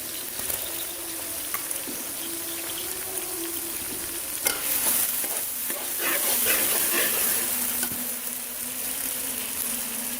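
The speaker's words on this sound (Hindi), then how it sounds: "अब मैं लहसुन अदरक का पेस्ट डालने लगी हूँ।" Garlic ginger paste sizzles steadily in hot ghee with onions, a continuous close frying hiss with occasional stirring scrapes and crackles, no talking.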